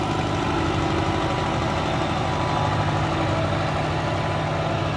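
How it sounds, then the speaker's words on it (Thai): A tractor engine pushing at a muddy work site after overnight rain runs loud and close, a steady low rumbling drone with a constant throb and no pauses. "อันนี้ต้องมีรถไถดันครับ"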